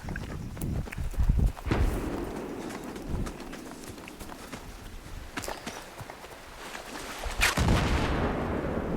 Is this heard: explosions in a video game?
yes